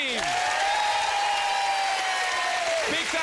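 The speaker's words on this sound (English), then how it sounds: "So let's give them a big round of applause" Studio audience at a Family Fortunes television game show applauding steadily, a dense even wash of clapping under a sustained musical tone that swells and fades.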